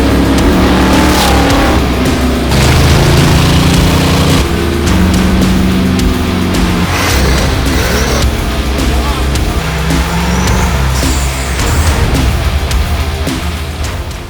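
A 1969 Chevy Chevelle nicknamed the Hell Valve rumbles loudly and steadily close by, its deep low engine note holding throughout with some rising revs and a brief burst near the middle.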